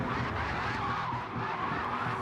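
A race car with badly worn tyres slides off the track during a sprint race, producing a sustained, loud scrubbing skid blended with engine roar for a couple of seconds.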